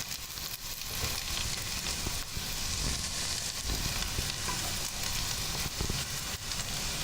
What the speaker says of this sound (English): So we're just gonna saute those off real quick.